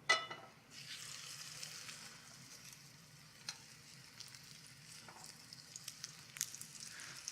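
Food frying in hot oil in a pan, a soft steady sizzle with scattered crackles and pops, fairly quiet and continuous after a brief louder burst at the start.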